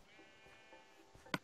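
Faint wavering sheep bleats from the Minecraft game on PS3 sound at a distance, with a short sharp click near the end.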